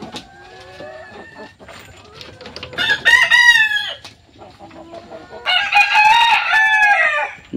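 Chickens cluck and a rooster crows on a poultry farm where young chicks are being brooded, with loud bursts of calls around the middle and again toward the end over a steady background of birds.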